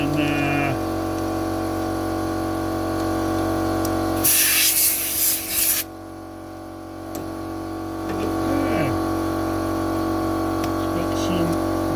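Brake cleaner sprayed from an aerosol can during a trailer restoration, a loud hissing burst lasting about a second and a half in the middle, with a steady hum of background machinery before and after.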